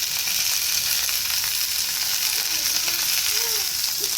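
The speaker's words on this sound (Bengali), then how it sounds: "এদিকে ভেন্ডি ভাজা হচ্ছে" Okra frying in a pan, a steady close sizzle that runs evenly throughout with faint background sounds underneath.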